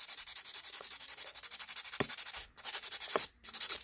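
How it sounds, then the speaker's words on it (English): A 180 grit file rubs back and forth over an acrylic nail on a training finger, making a fast, steady scratchy rasp in even close strokes with a couple of brief pauses. "So I'm going in and I'm just smoothing everything out with this file."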